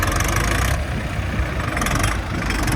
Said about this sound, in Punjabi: ਟਰੈਕਟਰ ਆਪਣਾ ਇਹ ਘੱਟੋ ਘੱਟ 5-6 ਬੰਦਿਆਂ ਦਾ ਕੰਮ ਕਰ ਰਿਹਾ ਹੈ